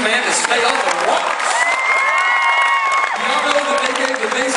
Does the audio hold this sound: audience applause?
yes